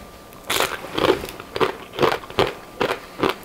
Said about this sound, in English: I like to hear that crunchy sound.